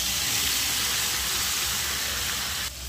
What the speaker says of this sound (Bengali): চর্বিগুলো লাল লাল করে ভাজা গেছে, এবার মাখা সোয়াটা দিয়ে দেবো আস্তে আস্তে।